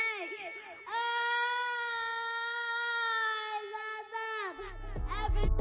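A young child cries loudly at close range in one long sustained wail with shaking pitch, breaking into short sobbing cries near the end as a low rumble comes in.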